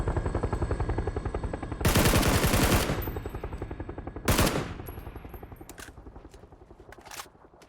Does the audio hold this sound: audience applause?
no